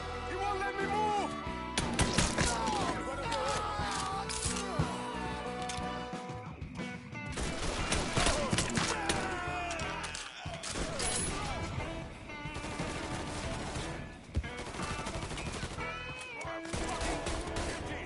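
Gunfire in the Mafia 3 crime action game, rapid repeated shots in a chaotic firefight mixed with music and shouting voices.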